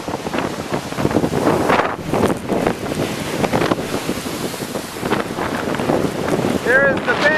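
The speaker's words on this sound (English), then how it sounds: "There is the bay, raging hurricane wind." Raging hurricane wind buffets the microphone at a bay during Hurricane Sandy, a loud, continuous rumbling roar with gusting surges, and a brief shout near the end.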